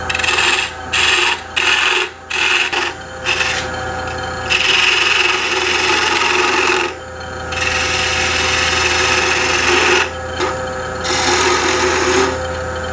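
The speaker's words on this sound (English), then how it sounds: "Hold that securely in the spigot jaws while I cut away the bottom." A gouge cuts away the bottom of a wooden sea urchin ornament held in spigot jaws on a lathe, giving a steady close scraping and rasping over the motor hum, broken by several short pauses and lifts of the tool.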